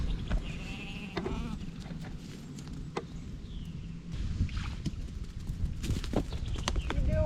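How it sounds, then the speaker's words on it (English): Sheep bleating on a farm where topsoil piles are being moved, several calls rising now and then over steady outdoor rumble and a faint voice. "But I want to keep these sheep around"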